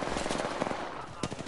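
Rapid automatic gunfire in a PS4 video game rattles in dense, continuous bursts, with one sharper, louder shot standing out near the end.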